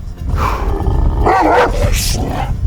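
A large Kangal shepherd dog gives a deep, rough bark close by, a loud throaty burst followed by a growling tail-off.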